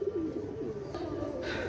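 A pair of Oman teddy pigeons coo softly nearby in a low, rolling murmur, while faint background noise rises near the end.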